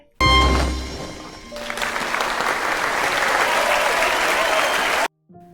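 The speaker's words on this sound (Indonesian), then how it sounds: "Dia disambut sama tepuk tangan dan sorak-sorai." Recorded applause and cheering from a crowd plays through a loudspeaker on a game-show set, a loud continuous roar of clapping that runs steadily for about five seconds before cutting off abruptly.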